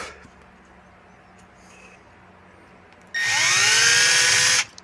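A power drill bit bores into the top of a rivet on a restored 1971 Harley golf cart, starting abruptly as a loud, steady high-pitched whine that runs about a second and a half and then stops, after quiet background hum.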